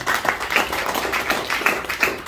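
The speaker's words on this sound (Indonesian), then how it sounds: "Boleh minta tepuk tangannya lagi." Audience applause at a talk on TENS therapy, a steady wash of hand clapping with faint rhythmic peaks across the whole stretch, moderately loud with no voices over it.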